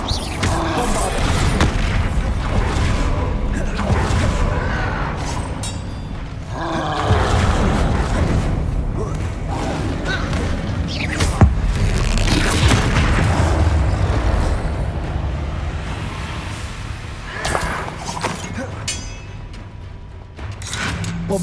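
Bombarda spell blasts going off in Hogwarts Legacy, a loud rumbling series of explosive booms layered with constant game noise and roaring effects, continuous and dense throughout.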